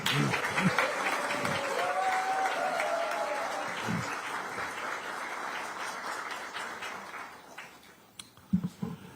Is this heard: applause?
yes